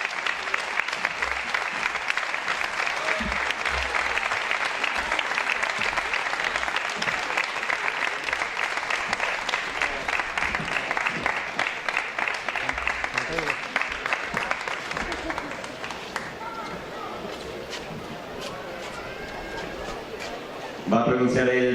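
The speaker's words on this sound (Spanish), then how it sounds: "un aplauso muy fuerte para la asociación, la protectora Adopta Mascotas Jaraíz" Festival crowd in Jaraíz de la Vera gives sustained, loud applause for an animal protection association, with steady dense clapping that thins slightly near the end.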